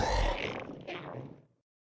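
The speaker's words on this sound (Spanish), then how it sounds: "León." Lion roar, a single deep growling roar that swells and fades out after about a second and a half, heard alone.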